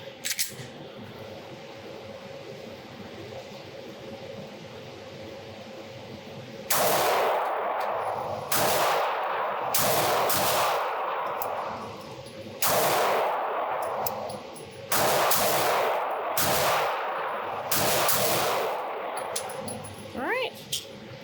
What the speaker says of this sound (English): All right, so let's take some shots.